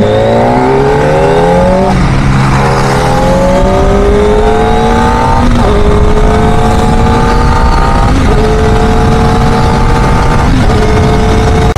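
A 2025 Kawasaki ZX-4RR inline-four motorcycle accelerates hard while being ridden, its loud, close, high-pitched engine wail climbing through the revs, then dropping briefly at each of several upshifts before rising again.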